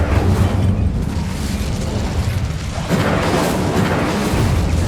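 The Incendio spell in Hogwarts Legacy blasts a barricade with a loud, sustained rumbling roar. A heavy low boom swells again near the end, and no one talks.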